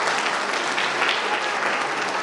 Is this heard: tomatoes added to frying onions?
no